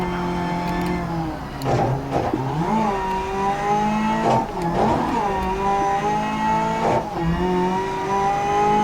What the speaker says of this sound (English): So I just hit the e-brake to give myself a little bit of drift